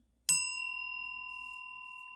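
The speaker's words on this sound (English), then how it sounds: "I'm going to go ahead and ring that bell just for additional good juju with my trusty mascara wand" A small bell struck once with a mascara wand gives a sharp ding that rings on clearly, a pure sustained tone slowly fading over two seconds in a quiet room.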